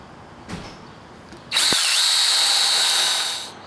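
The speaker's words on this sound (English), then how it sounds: "So we'll drill this out," Power drill boring holes in a steel boat lift cradle while fabricating sailboat lifting cradles, a close, loud, sustained whine lasting about two seconds after a short tap.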